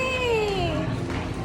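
A cat lets out one long, drawn-out meow that slides downward in pitch, loud and close, over steady background noise.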